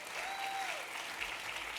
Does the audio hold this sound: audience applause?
yes